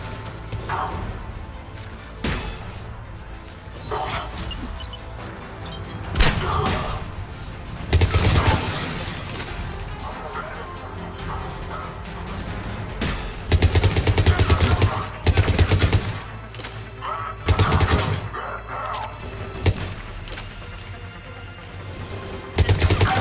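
Automatic gunfire from a Mass Effect 3 firefight, with rapid bursts and heavy shots repeating in loud clusters throughout, alongside booms and impacts over a dense game soundscape.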